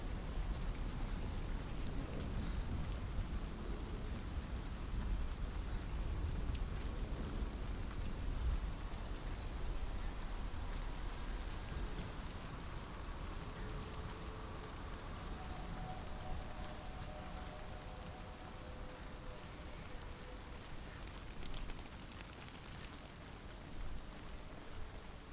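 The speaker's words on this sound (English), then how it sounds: "We're back in turmoil in a storm." Steady rain pours through a stormy scene in the video game Hellblade: Senua's Sacrifice, a constant hissing wash of drops heard alone, fairly faint, with no clear thunder.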